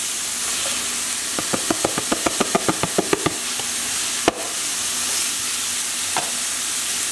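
Onion going into a pot and starting to sauté, with a close steady sizzle and a quick run of sharp rhythmic taps near the start, then one louder knock before the frying hiss carries on alone.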